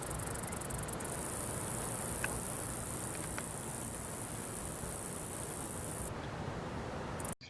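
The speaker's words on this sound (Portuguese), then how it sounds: "Então aqui nós temos o primeiro gafanhoto dessa família Crigidae." A grasshopper of the family Crigidae stridulates in a steady, dense hissing buzz that runs for several seconds, then abruptly drops to a quieter level near the end, heard alone without talk.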